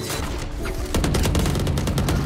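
Rapid gunfire in the video game Valorant, a loud close burst of repeated shots beginning partway through and continuing in a fast rattling rhythm.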